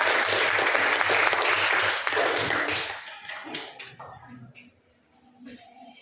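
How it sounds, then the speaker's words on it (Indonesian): A classroom audience claps for a student group after their presentation, a loud dense burst of applause that fades out after about three seconds into scattered taps and quiet room noise. "Kita beri aplaus untuk kelompok 2"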